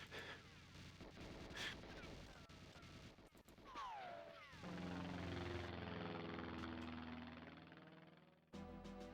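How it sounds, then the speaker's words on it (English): An aircraft takes off as an N64 video game sound effect, a loud whining engine roar that swells and holds steadily before cutting out abruptly, preceded by scattered game noises and heard without music. "just like that plane taking off for no reason"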